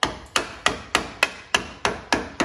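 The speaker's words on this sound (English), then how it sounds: "just get a screwdriver and a hammer" Nine sharp metallic hammer strikes drive a screwdriver through a stuck oil filter on a Briggs & Stratton lawn tractor engine, landing at an even, quick rhythm, each a close, ringing impact that fades before the next blow.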